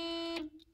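A car alarm sounds a steady, loud electronic tone that cuts off partway, followed by faint high beeps.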